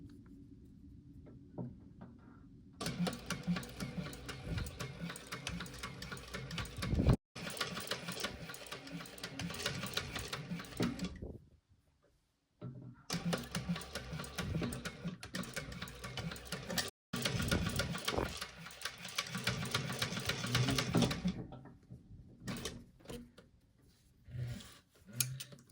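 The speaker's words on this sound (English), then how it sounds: "we are going to sew these down both long sides, not all the way around, just down the two long sides with the seam allowance listed in the pattern" Sewing machine stitching down the long sides of fabric for a small backpack, several loud close bursts of rapid mechanical whirring separated by brief stops and quiet gaps, with faint handling sounds between runs.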